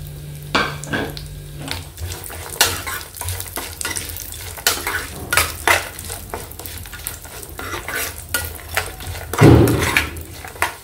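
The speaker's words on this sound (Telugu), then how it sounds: "డ్రై ఫ్రూట్స్ అన్నీ బాగా వేగిపోయాయి." Dry fruits and raisins fry in a pan, a spoon stirring and scraping with repeated clinks against the metal, over a low sizzle, with a louder scrape near the end.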